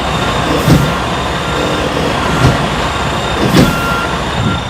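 A semi truck's fifth wheel hitch pops and clunks as the truck is rocked back and forth, giving three or four dull knocks spaced about a second apart over a steady engine idle rumble and cab hum.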